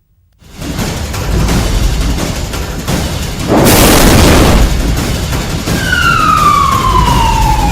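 Explosion in Beirut, Lebanon, involving 2,750 tons of material: a broad roaring rumble that swells into a loud blast burst midway, with sirens rising and wailing afterward over sustained low noise.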